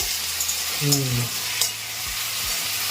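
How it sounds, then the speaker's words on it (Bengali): Steady sizzling of potatoes and onions frying in a pan, with occasional scraping and stirring noises over the constant hiss. "আলু পেঁয়াজ ভেজে দিই তোমাকে একটু"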